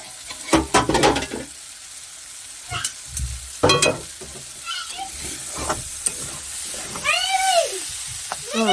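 Vegetables for chowmein cook in a pan, with a soft sizzle broken by intermittent spatula scrapes and clatters, close and fairly quiet.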